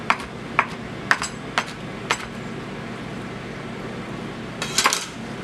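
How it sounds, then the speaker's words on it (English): A knife chops pizza toppings for a tortilla pizza, about half a dozen sharp, irregular knocks against a board, close and distinct, followed by a quick cluster of clatter near the end. "Just chop them up so I can fit them on there a little easier."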